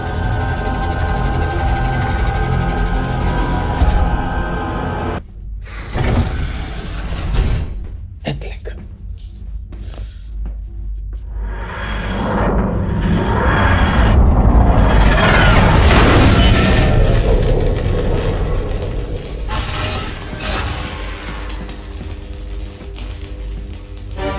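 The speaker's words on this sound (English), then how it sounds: "Behold my Mark III travel machine." Mechanical sound effect for a Dalek Mark III travel machine from Doctor Who: a dense, loud mix of grinding mechanisms, clattering, sharp cutoffs and a swelling booming rumble, sustained and close.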